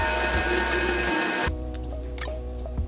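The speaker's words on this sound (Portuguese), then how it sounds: "eu vou pedir licença aqui a vocês para ligar a batedeira" An electric mixer whipping eggs for a gluten-free banana cake, a steady motor whir with a low hum, close and continuous, changing pitch as the speed shifts halfway through.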